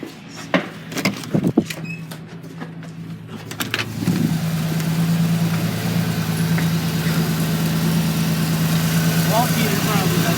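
A JDM mini truck engine idles with a steady low hum after a few sharp knocks and clunks like a door, the motor settling into a constant drone close by while someone speaks briefly early on.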